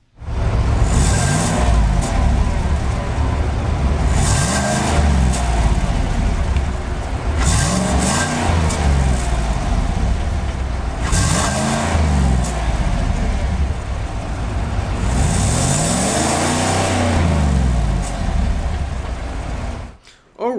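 Chevrolet Silverado 1500 pickup with a 420-horsepower V8, revved repeatedly in rising and falling surges, loud and close throughout, with a person speaking in between.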